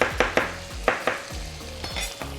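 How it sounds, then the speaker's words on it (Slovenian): Onions and bacon frying in a pan, a soft steady sizzle broken by several close scraping knocks from stirring. "Naj se tole zdaj kar lepo vse praži."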